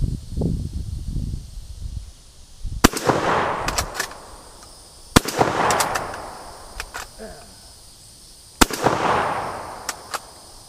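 A J.C. Higgins 583.20 bolt action shotgun fires three sharp, loud outdoor blasts a few seconds apart, each trailing into a rumbling echo, with brief handling clicks and a short stretch of talk before the first shot.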